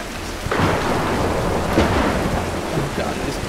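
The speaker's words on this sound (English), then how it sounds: "Oh god, it is always stormy on this island." Thunderstorm on an island in the Tomb Raider video game: steady heavy rain with rolling thunder throughout, loud and close, no voices.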